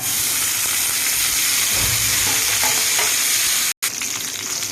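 Garlic, cumin, urad dal and curry leaves fry in hot oil in a pan, a loud dense crackling sizzle that runs unbroken apart from one brief cut, with faint stirring underneath and no speech.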